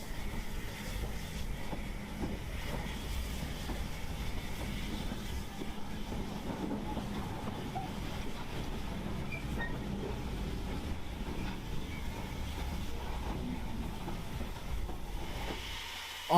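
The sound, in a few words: Caledonian 812 steam locomotive pulling into Greenbridge station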